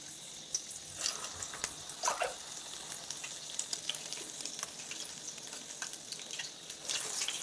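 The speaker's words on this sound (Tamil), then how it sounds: "உளுந்து வடை போட்டாச்சு வேகட்டும்" Urad dal vadas fry in hot oil, a continuous crackling sizzle with repeated sharper pops and bubbling bursts scattered throughout, close and moderately loud, with no voices.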